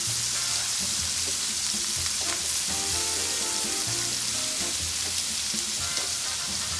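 Tomatoes frying with onion and garlic in a pan give a steady, loud sizzle and crackle that fills the whole stretch, with occasional soft stirring and turning noises and no voices.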